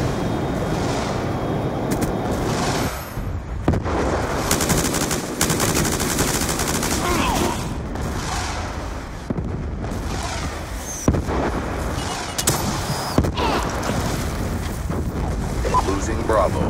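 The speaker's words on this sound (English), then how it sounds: "Hellstorm missile inbound." Heavy gunfire and explosive blasts from Call of Duty: Black Ops 2 multiplayer on the Firing Range map, dense bursts and booms running throughout with frequent loud impacts, under a radio-style announcer voice.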